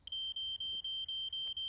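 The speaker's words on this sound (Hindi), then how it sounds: "ये किसका स्मोक अलार्म बज रहा है?" Smoke alarm in a Fireman Sam cartoon, sounding from a shop: a steady high electronic tone broken into quick, regular beeps, loud and alone with no talk.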